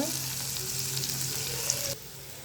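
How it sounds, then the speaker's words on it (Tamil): Onions frying in oil with a pinch of salt for egg gravy hiss in a steady, close sizzle for about two seconds before dropping to a quieter fizz, with no talking. "பாருங்கள், வெங்காயம் ஓரளவுக்கு வதங்கிருக்கு."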